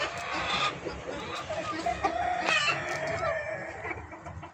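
Native spotted country chickens and pure white brooding hens of a farm parent stock cluck and crow steadily, close and fairly loud, with rooster calls rising over a constant background of hen chatter.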